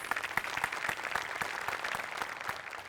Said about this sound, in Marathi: त्याच्यासाठी तुझ्यासाठी टाळ्या वाजल्या पाहिजे